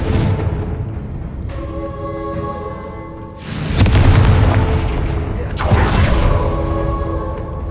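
Confringo blasting spells in the video game Hogwarts Legacy, with two loud booming explosions a couple of seconds apart. Each boom is a sharp burst that fades into rumbling and ringing tones, over a background of game music.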